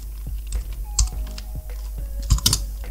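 Keys clack on a computer keyboard as text is typed into Microsoft Word, a run of close, irregular taps with a few louder strikes.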